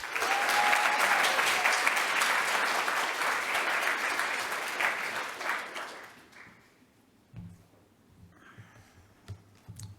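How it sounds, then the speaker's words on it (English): Loud audience applause at a forum welcomes the Attorney General, dense clapping for about six seconds before fading into scattered claps and quiet room noise. "can you please make a massive round of applause for the Honourable Yvette D'Ath?"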